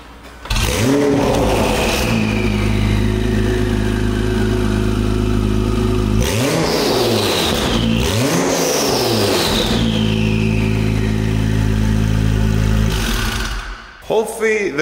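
A Honda Civic with front-wheel drive starts up and revs loud and close, its engine climbing through several sharp rises and falls before easing back toward idle at the end.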